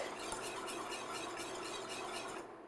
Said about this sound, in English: Whisk it the whole time.